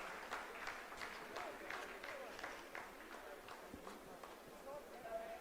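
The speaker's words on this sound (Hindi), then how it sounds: "आप इस तालियों के गड़गड़ाहट को सुन सकते हैं" Scientists applaud as a braking phase of the Chandrayaan-3 lunar lander's soft landing completes, a steady patter of many hands clapping beneath a commentator's ongoing narration.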